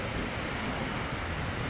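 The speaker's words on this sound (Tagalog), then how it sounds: "Pero malakas yung alon yan." Rough sea waves at Sumilon Island, Cebu, make a steady, close broadband rush of surf, mixed with wind noise on the microphone and no talking.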